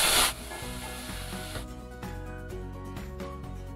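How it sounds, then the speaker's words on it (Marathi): Chopped tomato sautéing with onions in a pan for Puneri misal, a loud burst of sizzle at the start settling into steady frying with soft scraping stirs underneath. "तो ऐड करून घेऊयात आणि हा टोमॅटो देखील एकदम मऊ होईपर्यंत परतून घ्यायचा आहे"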